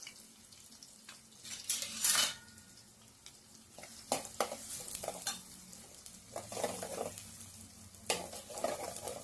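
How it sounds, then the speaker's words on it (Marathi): Onion added to hot oil with spluttering mustard seeds and cumin for a cauliflower curry, sizzling and frying steadily while a spoon stirs and scrapes through it, with louder bursts of crackle and clatter. "मोहरी तळतळायला लागलेली आहे जिरं पण तळतळायला लागलेलं आहे अशा वेळीच यामध्ये कांदा टाकून घ्यायचा आहे"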